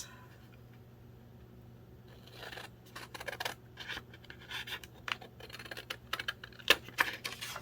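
Scissors snipping around a paper treat bag for a 4th of July paper bag journal, a run of quick, close crisp cuts and scratchy paper rustles that grow busier toward the end, with a steady low hum underneath.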